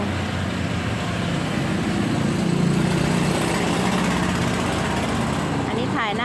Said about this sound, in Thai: มีเสียงรถไถเพราะอยู่ ติดทุ่งนาค่ะ อยู่ติดทุ่งนาก็มีเสียงรถไถ